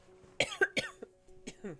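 A few short, close coughs in quick succession, followed by softer throat sounds.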